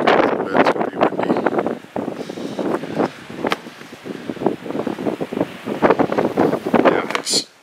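Strong wind gusting during a snowstorm, roaring and buffeting a nearby microphone in uneven surges across the whole stretch.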